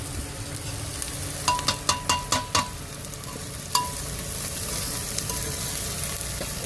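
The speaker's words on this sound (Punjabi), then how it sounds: "ਹੁਣ ਮੈਂ ਲਾ ਰਿਹਾ ਸੀ ਤੜਕਾ" Tadka tempering for dal sizzling in a pan, a soft steady frying hiss with a quick run of sharp clicks and taps, like a spoon against the pan, partway through.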